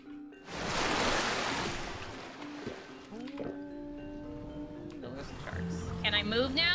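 Ocean surf in the survival video game Ark Survival Ascended while the player's character swims: a broad wash of waves that swells at the start, joined later by game tones and effects.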